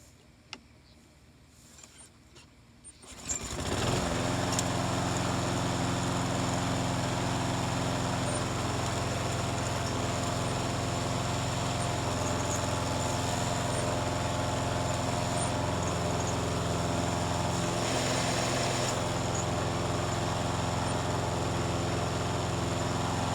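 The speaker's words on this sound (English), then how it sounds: "we're going to crank it up, let it run, and we're going to check the self-propelled" A Toro push mower engine starts after a few quiet seconds and then runs steadily at a loud, even idle drone close by, continuing unchanged to the end with no voices.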